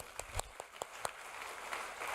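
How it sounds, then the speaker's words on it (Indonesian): A church congregation at a Christian worship service claps, with a few sharp, separate claps at first that thicken into quieter, scattered applause, fairly faint and distant. "tepuk tangan dong, tepuk tangan"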